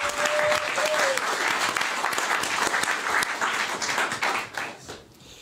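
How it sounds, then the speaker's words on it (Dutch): Audience applause for a well-known Dutch vlogger at an evening event on the Rif protests, dense loud clapping from a crowd that tapers off at the end. "Geef hem een applaus."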